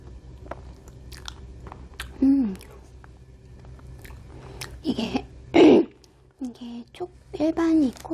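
Bread from a Gyeongju bakery tour, chocolate-flavoured, is bitten and chewed close up in a few soft crunching and squishing bites, with short vocal sounds between them.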